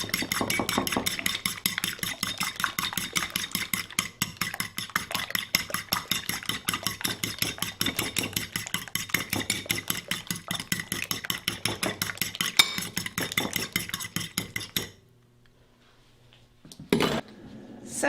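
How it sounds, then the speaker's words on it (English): Fork beating three eggs in a bowl, a fast steady run of light clinks and taps against the bowl for about fifteen seconds, close and continuous, then stopping into near silence with a couple of brief knocks. "I've got 3 eggs in this bowl, and I'm going to beat them up with a fork"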